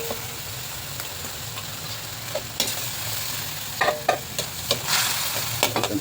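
Finely chopped carrots stirred into a pot of corn soup, a steady low hiss broken by spoon scrapes and clacks against the pot, close and fairly loud with no talking.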